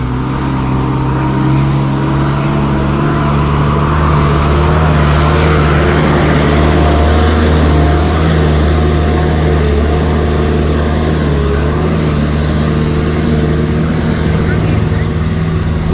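A vehicle engine labours up a steep 10% gradient road near Paete, Laguna, a loud continuous droning strain that holds steady without letup.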